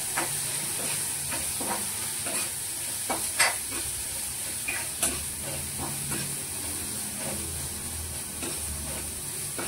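Food fries and roasts in plenty of oil with turmeric added, a constant soft sizzle and hiss under occasional stirring clinks and scrapes, close by, with no talking.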